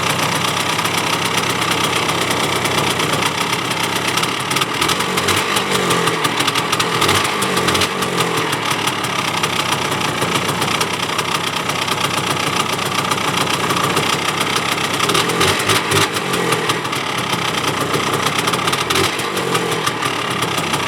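A small Yamaha inverter generator engine runs loud and steady, droning on without pause and with no voices.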